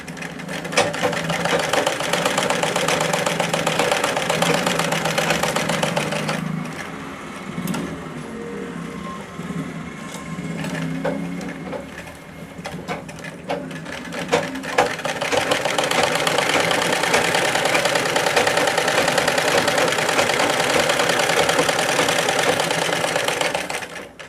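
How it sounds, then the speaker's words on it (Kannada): A sewing machine stitches cross patti fabric trim, running steadily and loud, easing slightly midway, then resuming at full speed, with no talking. "ಇಲ್ಲ ಈ ಥರನಾದರೂ ಸ್ಟಿಚಿಂಗ್ ಮಾಡ್ಬೋದು"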